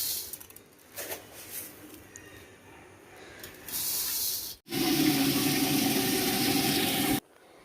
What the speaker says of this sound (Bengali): এবার এতে জল দিয়ে সিটি দিয়ে দেবো